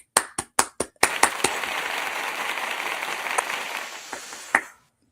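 Audience clapping, a few sharp separate claps first, then a dense burst of applause that holds steady for several seconds before tapering off with a few last claps.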